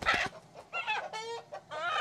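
Farm chickens and a rooster cluck in short, close, repeated calls, a few distinct bursts in quick succession with no talk.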